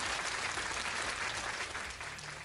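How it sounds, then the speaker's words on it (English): Steady applause from a studio or small crowd, continuous clapping at even loudness that tapers slightly toward the end, with no talking over it. "give them a round of applause, folks"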